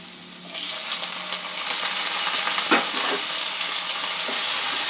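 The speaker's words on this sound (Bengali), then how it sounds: "পেঁয়াজটা একটু নরম হয়ে আসা পর্যন্ত ভেজে নেব।" Onion and tomato frying in a pan, a steady loud sizzle and hiss that swells after the vegetables go in, with a few soft stirring scrapes and no talking.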